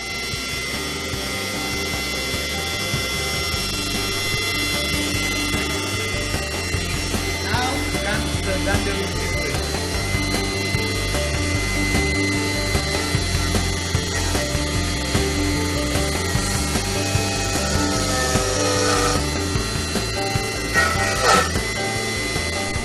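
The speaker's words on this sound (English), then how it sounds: "The system utilizes a vane-type air motor, allowing you the option to use air pressure of less than 90 psi without motor stall." Pneumatic deburring tool driven by a vane-type air motor, a steady dense whine and hiss running continuously with layered tonal hum and occasional rattling ticks, loud and close throughout.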